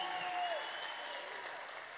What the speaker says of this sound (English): a big round of applause for our leaders